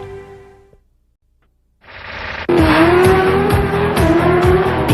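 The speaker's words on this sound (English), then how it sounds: "Blazing down the track on a 270 horsepower engine at speeds of over 180 miles an hour" A 270-horsepower drag racing motorcycle on a track roars loud and close after a brief lull, a sustained high engine whine with rising revs and tire noise.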